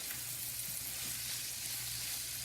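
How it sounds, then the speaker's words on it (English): Steady, soft sizzle of pancake batter and eggs frying in oil in a pot at a home stove, a continuous crackle with no talk over it. "So I'm going to give it some time to fry very well."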